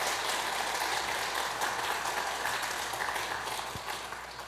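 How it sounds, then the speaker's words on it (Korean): A church congregation applauds during a certificate ceremony at Sunday worship, giving steady, dense clapping that carries on unbroken at an even loudness. "수료증과 선물을 줄 때 박수로 축하해 주시기 바랍니다."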